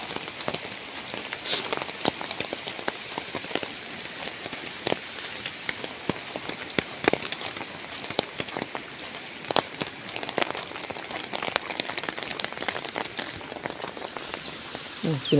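Rain pattering steadily on a house in the mountains, a constant close hiss of drops with scattered sharper taps on the roof and surfaces, no voices over it.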